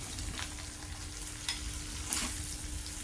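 Green chillies stirred in a pan over a low flame give a quiet, even sizzle, with a few soft scrapes and knocks of a spoon.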